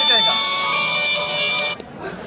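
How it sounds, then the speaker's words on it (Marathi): A mobile phone rings with an incoming call from a mobile pump motor controller reporting a phase fault; a loud, close electronic ringtone plays for about a second and a half, then stops, and a voice briefly follows. "आता या मोबाईलवरती थोड्या वेळात फोन येणार."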